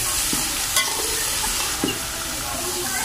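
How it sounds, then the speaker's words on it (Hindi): Mixed vegetables frying over a low flame in a village kitchen, a soft continuous sizzle with a couple of faint stirring clinks, close and steady, no talking. "हल्की हल्की आंच से हमने ये सारी सब्जियां जी फ्राई करनी है"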